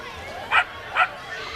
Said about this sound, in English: I see a puppy. I hear a puppy.